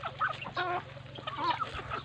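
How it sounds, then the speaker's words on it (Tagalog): Several chickens clucking close by in short, overlapping bursts, with a low steady hum underneath, on a farm that also keeps turkeys and ducks. "May manok, mayroong pabo, at saka mayroong pato."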